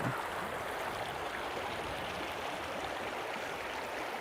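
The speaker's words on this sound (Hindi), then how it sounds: "बारिश होने के बाद नहर का पानी आ रहा है" A canal swollen after rain flows steadily with a continuous broadband rush of water, close and unbroken throughout.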